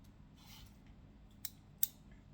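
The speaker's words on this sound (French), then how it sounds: "essayer de tailler un petit peu ce qui traîne" Pruning scissors trimming bonsai branches give two crisp snips, the second louder, over a quiet background hum.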